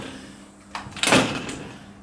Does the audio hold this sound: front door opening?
yes